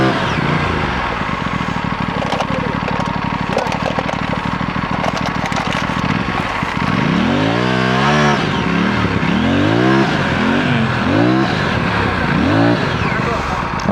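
A Kawasaki Z900 motorcycle is ridden on a drive-in beach. Its engine runs loud and close, settling into a steady idle, then rises and falls in a string of repeated revs. People talk over it.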